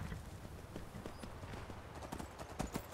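Horse hooves clip-clop in a steady walking rhythm inside a video game, close and moderately loud over a continuous ambient game background with no talk.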